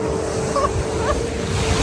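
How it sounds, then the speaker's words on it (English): Big ocean waves on the coast of Hawaii's Big Island roar as a loud, steady wash of surf with wind buffeting the microphone. "These are some of the biggest waves I've found of the big island."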